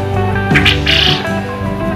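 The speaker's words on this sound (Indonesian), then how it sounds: "Suara burung puyuh jantan itu akan terlihat lebih nyaring." A male quail calls loudly and close, giving a sharp, shrill squawking call with harmonic tones over steady background noise.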